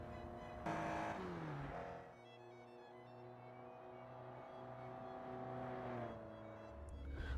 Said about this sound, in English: it's a car that you can enjoy driving in the twisty mountain roads like this one